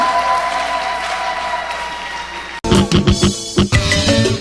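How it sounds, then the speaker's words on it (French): Loud applause breaks out abruptly from an audience at a colloquium in Ngandajika, following a stretch of music, with dense clapping and a few sharp bursts rising over it to the end. "On applaudit très fort."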